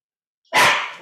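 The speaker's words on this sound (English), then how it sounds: "the dog might be angry at the moment" A dog lets out one sharp, loud bark close by after a moment of silence, the sound trailing off quickly.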